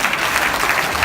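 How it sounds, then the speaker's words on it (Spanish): An audience in church bursts into dense, loud applause, a continuous wash of many hands clapping with no voices standing out, filling the whole brief moment. "Alguien da un aplauso"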